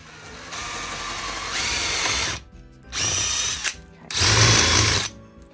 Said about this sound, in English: That way I know where to drill a hole, and I'm going to probably countersink it on the other side